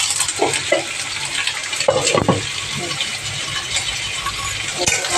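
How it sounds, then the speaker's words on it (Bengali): Mustard seeds tempering in hot oil crackle and sizzle steadily up close, with a few sharper pops and utensil clinks partway through, and no one speaking. "তার আগে একটু সর্ষে ফোড়ন দেবে"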